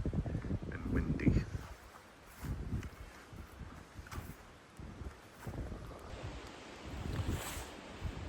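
Cold, gusty wind on a foggy Appalachian Trail, heard as rumbling bursts against the microphone that swell and fade across the whole stretch, with no one talking.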